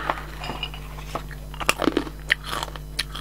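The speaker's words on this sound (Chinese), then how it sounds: "以前我们就很喜欢吃这个花生啊" Close, crisp crunching bites of peanuts in a series of sharp, irregular snaps over a low steady hum, with no voices.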